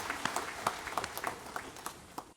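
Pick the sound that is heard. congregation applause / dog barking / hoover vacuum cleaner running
congregation applause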